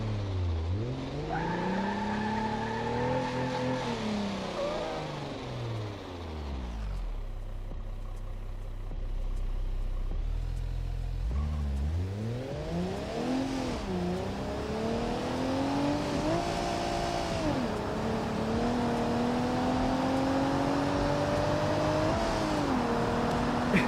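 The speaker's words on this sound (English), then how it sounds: "No, we're not missing an engine here." An engine runs steadily in a Volvo car with a real interior, its tone rising and falling through several revs and gear changes, continuous and fairly close with no talk over it.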